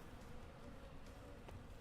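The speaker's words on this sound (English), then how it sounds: "I hear more bees." Bees swarm and buzz in the mountain-climbing video game PEAK, a continuous, close, droning hum with subtle wavering pulses and no speech.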